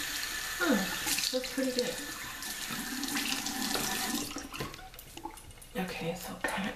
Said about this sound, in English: So I just rinsed it off.